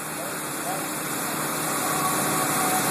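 A 1.5 inch diameter high feed mill cuts cast iron on an OKK machining center, giving a steady, loud, continuous whir and grinding hum with no pauses.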